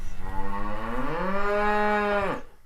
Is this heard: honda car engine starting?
no